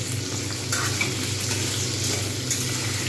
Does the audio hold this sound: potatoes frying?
yes